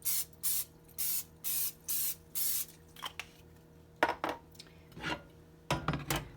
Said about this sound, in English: we're going to prep our 2-quart dish that we're going to put this in just by using that spray oil